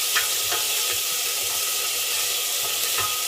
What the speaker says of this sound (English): I'll just give that a